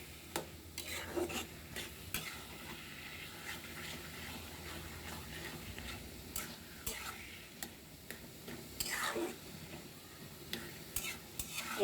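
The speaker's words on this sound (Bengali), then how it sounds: "কচু শাকটা বারবার নেড়ে দিচ্ছি কারণ নিচটা লেগে যাবে।" Taro leaves (kochu shak) being stirred in a pan, with a utensil scraping and clicking in an uneven rhythm over a soft, steady sizzle, the strokes fairly quiet and close.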